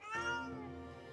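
A single drawn-out cat meow from the video game Okami, clear and close, rising then trailing off, with no talking around it.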